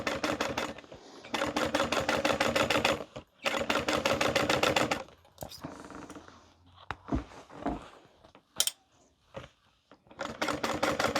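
A sewing machine top stitches the side panel of a tote bag in rapid rhythmic bursts of clattering needle strokes, with pauses for fabric handling and a few clicks between runs.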